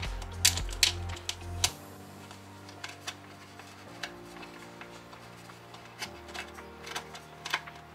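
Small clicks and ticks come from a 2.5 mm Allen key working loose the bolts of a battery retaining clip on a Specialized Turbo Levo e-bike, sparse and close with quiet gaps between them.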